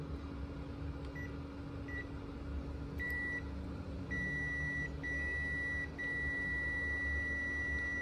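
A multimeter gives a steady high continuity beep while its probes test an opened LG 18650 lithium battery cell, the tone cutting in briefly a few times and then holding long, over a constant low hum.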